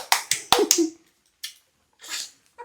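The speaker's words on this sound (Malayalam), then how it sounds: "കൈയടിക്ക്, കൈയടിക്ക്." Hand clapping: four quick sharp claps close by in a burst, followed after a pause by a few scattered softer claps.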